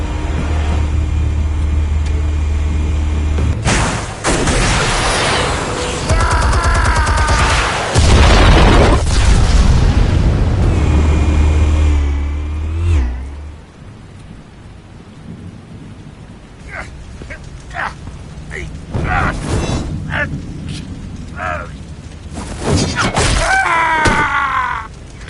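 Explosives detonate in the video game Batman The Telltale Series, heavy booming blasts with rumbling, debris-like noise, loud at first, then quieter bursts and scattered impacts later.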